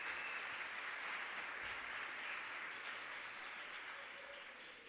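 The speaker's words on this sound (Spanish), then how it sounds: "Fuerte el aplauso para nuestros amigos de la Caja de Ahorros." An audience applauds at a regional oratory competition final in Bocas del Toro province, Panama: a steady wash of many hands clapping, fairly distant and faint, tapering slightly toward the end without any talking.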